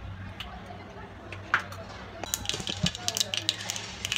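Mustard seeds pop and splutter in hot oil in a kadhai, giving scattered close crackles that grow thicker and more frequent over a low steady hum.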